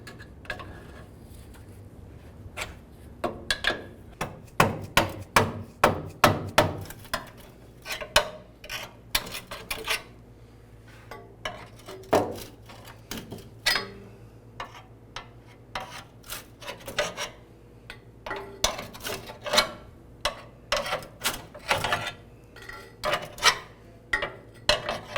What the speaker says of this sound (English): use a pry bar and go ahead and try and separate these units here